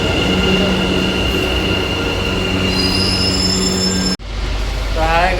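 A Bangalore metro train at a station gives loud, sustained wheel squeals and a rumble. The sound then cuts abruptly to a quieter, closer stretch with rising whine tones.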